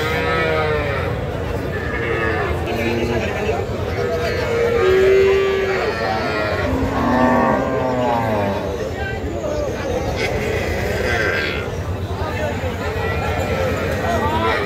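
Sahiwal, Sindhi and local dairy cows and calves low and moo at a busy rural cattle market, with a few drawn-out calls rising over a constant crowd babble and nearby conversation.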